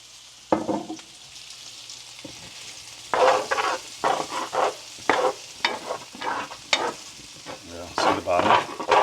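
Potatoes fry in oil in a HexClad pan with a steady close sizzle, broken by bursts of scraping and stirring of increasing intensity. There is no clear speech.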